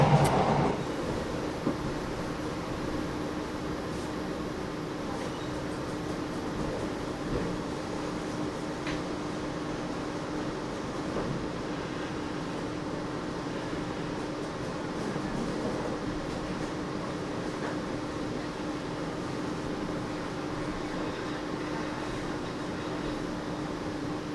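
Steady rumbling inside the Jayakarta passenger train in Indonesia, a continuous broadband roar with faint rattles and clicks, constant throughout with no talking.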